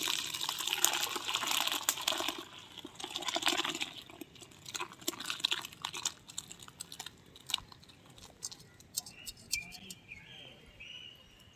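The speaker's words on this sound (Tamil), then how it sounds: "பால் நல்லா திரிஞ்சு வந்துருச்சு. இப்போ நம்ம இறக்கி வடிகட்டி வச்சுக்கலாம்." Curdled milk for rasgulla being poured and strained through a strainer, soft splashing and trickling at first, then scattered drips and light clinks, quiet and close.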